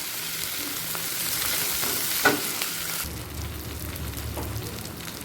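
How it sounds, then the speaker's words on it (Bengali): Chopped tomato and six or seven green chillies sizzle in a pan with onions already fried light red over a high flame, a steady close hiss with a stir clatter partway through. "পেঁয়াজটা হালকা লাল করে ভাজা হয়ে গেছে এই সময় দিয়ে দিচ্ছি একটা মাঝারি সাইজের টমেটো কুচি আর ছ সাতটা কাঁচা লঙ্কা"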